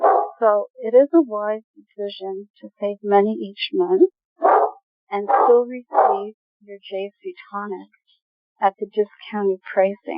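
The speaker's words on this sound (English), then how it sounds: "I apologize for my dog." A dog barking now and then in a room while someone talks steadily in the foreground, the barks mixed in among his speech.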